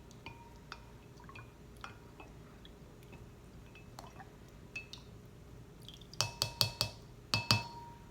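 Sodium lactate stirred into lye water in a glass container, quiet liquid swishing with scattered soft clinks, then a burst of bright, rapid utensil taps against the glass near the end.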